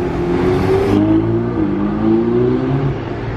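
A Ferrari 488 Pista Spider passes close and loud, its engine note shifting and dropping as it goes by, a throaty mechanical roar under open outdoor ambience.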